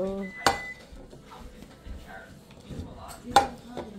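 Plates are handled at a shared home meal, with two sharp ceramic clinks standing out over softer clatter and quiet voices nearby.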